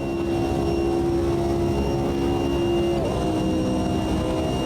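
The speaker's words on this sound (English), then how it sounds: "And you can listen to that engine roar." A race car engine roars steadily and loudly in the Automobilista 2 racing sim, held at high revs along a high-speed section with a brief shift in pitch near the end.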